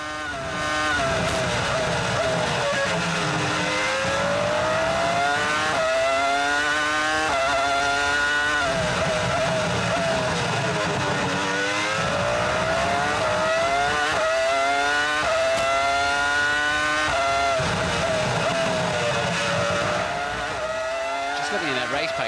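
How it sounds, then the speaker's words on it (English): A 2005 Formula 1 car heard onboard at the Spanish Grand Prix in Barcelona, its high-pitched engine screaming loudly and continuously through rapid upshifts and downshifts, with commentators talking over it. "On board with Webber then in 4th place, just 7/10 behind Ralf Schumacher in front."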